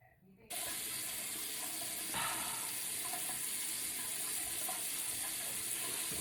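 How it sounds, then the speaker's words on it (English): Tap water running steadily into a bathroom sink for rinsing a face, a close, constant splashing rush that starts abruptly and continues unbroken, with faint handling sounds under it. "And then I'm going to rinse this off."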